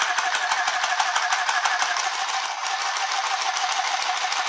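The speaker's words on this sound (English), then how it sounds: "I'm gonna see if you can sew through four layers" Inexpensive sewing machine stitching through four layers of fabric, an even, rapid buzzing whirr that runs without pause and sounds close and moderately loud.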